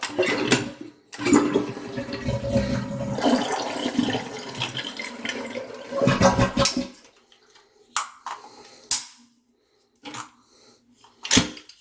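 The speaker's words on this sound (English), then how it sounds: "I'll flush it all the way." A dual flush toilet is flushed fully, the loud water rush running for several seconds before cutting off, followed by scattered knocks and clunks nearby.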